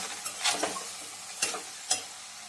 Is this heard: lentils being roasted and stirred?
yes